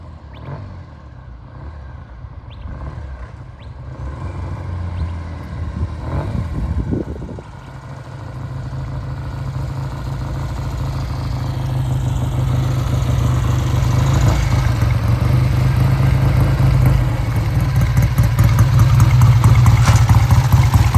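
Vintage British motorcycle engine idling after a test ride, a low uneven putter with a brief blip partway through, then a steady idle that grows louder and more clattery toward the end.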